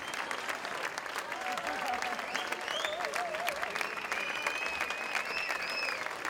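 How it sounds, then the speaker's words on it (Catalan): Steady, dense applause from a concert audience at the end of a singer's performance at the 2011 Festa Major in Cardedeu, sustained throughout with whistle-like tones and faint cheering mixed into the clapping. "Així acabava el concert el cantant, amb un fort aplaudiment per part del públic"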